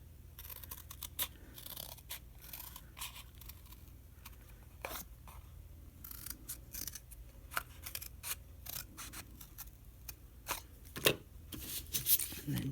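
Scissors snip through a paper template for a 3-inch faux clover tassel maker, a series of close, irregular crisp cuts with paper rustling between them.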